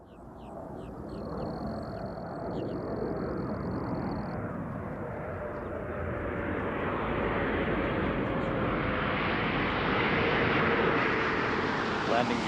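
Space Shuttle on landing approach, a broad, loud jet and aerodynamic roar that swells steadily toward touchdown, with brief faint radio voices early on.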